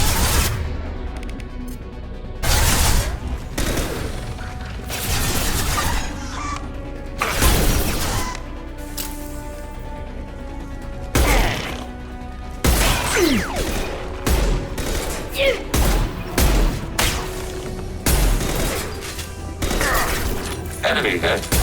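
Automated light weapon gunfire in Mass Effect 2 (Legendary Edition), a sci-fi video game, comes as repeated loud bursts and crashing impacts. The bursts are spread through the clip over a humming background.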